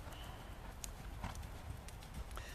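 Horse hooves canter in a steady three-beat clip-clop during eventing schooling in a bridle, recorded close with constant outdoor rumble and no talk.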